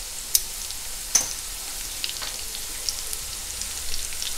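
Breaded Gordon Blue coated in panko frying in a pan, a soft, steady sizzle with a few sharp pops and crackles scattered through it.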